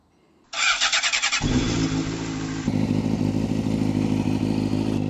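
A Honda CBR600RR sport bike cranks and fires up close by, the starter's quick chattering turning into a loud, steady idle that grows rougher and fuller after a few seconds, with no voices.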